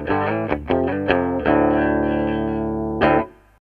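An electric guitar plays through a Rowin Holy War high-gain distortion pedal with boost off: a few short saturated chord stabs, then a long sustained distorted chord and a final hit that rings out, with no talking.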